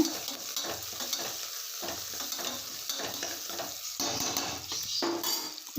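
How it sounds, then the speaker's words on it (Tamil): Crushed garlic frying in a pan for tamarind rice, with a steady sizzle under repeated scraping and stirring of a utensil against the pan. "நல்லா குக் ஆகணுங்க இந்த பூண்டு"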